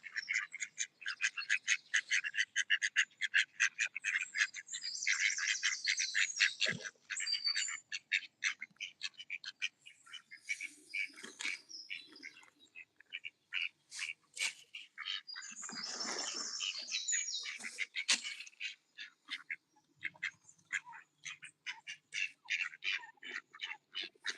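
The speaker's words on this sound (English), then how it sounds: "I don't know if you can pick up the little almost chirping that she's doing." Rapid, soft chirping and squawking calls repeat in dense bursts, close by, with a few rustles and a louder squawk partway through.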